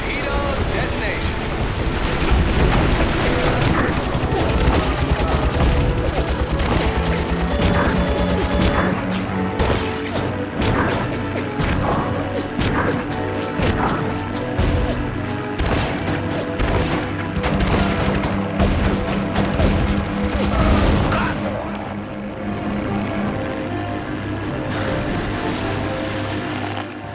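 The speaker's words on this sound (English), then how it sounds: "Torpedo detonation." A World War II naval air battle in the Heroes of the Pacific video game roars with droning propeller aircraft engines and repeated heavy crashing explosions from a torpedo detonation, dense and loud throughout, with a voice speaking over it.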